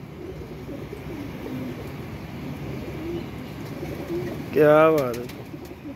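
A pigeon coos once near the end, a short warbling call rising over steady outdoor background noise, with someone speaking briefly.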